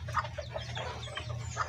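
A bantam hen clucks in short, close bursts at a steady pace, with a low, continuous hum running underneath and no voices.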